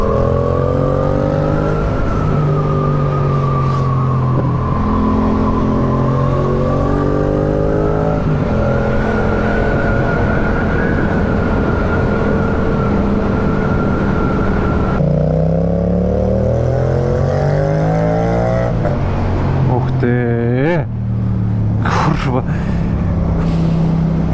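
Cars and motorcycles climb the Sella mountain pass in heavy traffic, engines droning steadily with rising and falling revs as vehicles pass close by, and a louder accelerating pass near the end; voices talk over the traffic throughout.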